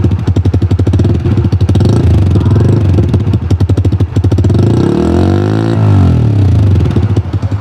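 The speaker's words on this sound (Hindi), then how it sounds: "तो कुछ इस तरीके का था इस बाइक का एग्जॉस्ट नॉट।" Exhaust note of a Bajaj Freedom 125 CNG motorcycle, recorded up close and loud: a steady, rapid thumping idle with a few throttle blips rising and falling in pitch, and no talking.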